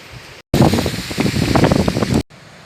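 Heavy rain and gusty wind from a storm on a Thai farm, loud broadband roar with a dense patter of drops, cutting in abruptly for under two seconds between quieter stretches, with no talk.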